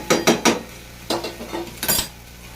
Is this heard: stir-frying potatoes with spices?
yes